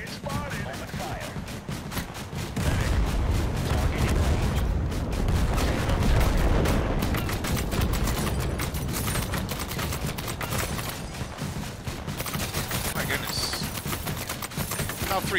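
Dense, rapid gunfire fills a Total Conflict combat video game scene, with overlapping shots rolling on steadily as a sustained fusillade at moderate loudness.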